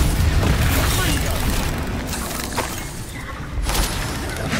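Continuous loud spell explosions and booms from Bombarda and Confringo casts in Hogwarts Legacy, dense rumbling blasts with shattering bursts, some spoken incantations mixed in.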